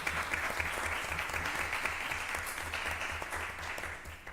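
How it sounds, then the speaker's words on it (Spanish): An audience at a health talk applauds after a speaker finishes, a dense, even round of clapping from a full room, moderately distant and continuous, with a low hum underneath. "¿Pueden aplaudir?"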